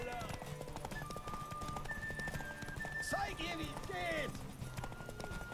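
A horse gallops in The Witcher 3 with rapid rhythmic clip-clop hoofbeats and a short whinny, running under someone talking and game music.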